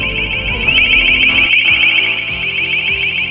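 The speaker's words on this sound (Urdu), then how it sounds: "یہ ڈیوائس ایک خاص قسم کی ساؤنڈ ویو جنریٹ کرتی ہے" A long range acoustic device blasts a piercing, steady high-pitched deterrent tone, loud and unbroken, with a warbling, pulsing edge and a faint rumbling layer beneath it.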